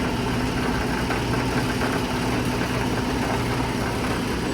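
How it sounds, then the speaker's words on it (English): A wood chip screener mounted on blocks, shaken by a hydraulic motor turning an offset weight while sorting chips by size, gives a loud, steady, continuous rumbling vibration with no break and no voices. "hydraulic motor with a weight, and it just makes that thing shake, mounted on these blocks"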